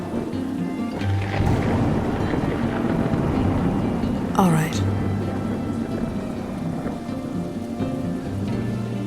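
Steady heavy rain pouring continuously with a rumble of thunder, loud and enveloping, while a voice speaks briefly over it.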